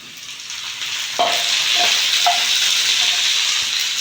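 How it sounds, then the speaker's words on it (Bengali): Raw tomato going into frying onions for a Bengali rohu fish kalia, the sizzle surging loudly once it lands, with a few spatula knocks against the pan and no speech. "পেঁয়াজটা ভালো করে ভেজে নিয়েছি এবার দিয়ে দেবো টমেটো কাঁচা"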